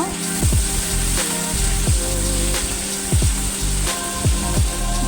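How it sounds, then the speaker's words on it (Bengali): Onion with garlic paste and ginger paste frying in a hot pan, a steady loud sizzle with repeated stirring scrapes every second or so, no talking. "এবার এগুলো একসাথে ভেজে নেব"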